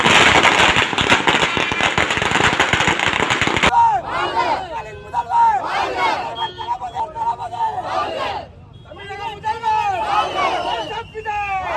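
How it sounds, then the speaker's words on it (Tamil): Firecrackers burst in dense, rapid crackling volleys as supporters celebrate at a roundabout, then give way to a loud crowd shouting slogans, with a few scattered pops continuing under the cheering. "ரவுண்டானா பகுதியில் கூடிய தொண்டர்கள் பட்டாசு வெடித்தும் முழக்கங்களை எழுப்பினர்."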